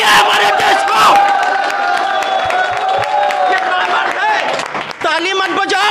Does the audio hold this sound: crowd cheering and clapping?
yes